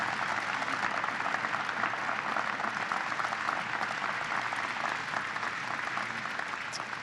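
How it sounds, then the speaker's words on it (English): Audience applause at a space exploration and science event, a steady, dense rattle of many people clapping that carries on evenly, somewhat distant and moderate in level, with no talking over it. "Would you please give them another round of applause for making this"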